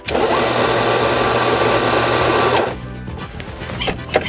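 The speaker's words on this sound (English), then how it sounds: "So here we have an espresso grinder." An espresso grinder grinds coffee beans with a loud, dense whirring roar for about two and a half seconds, then stops abruptly, leaving quieter clinks and handling noises.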